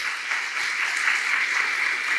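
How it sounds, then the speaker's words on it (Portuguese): Church congregation clapping for Jesus during a Portuguese-language service, a brief, steady burst of many hands applauding with no voice on top. "Vamos aplaudir Jesus bem forte."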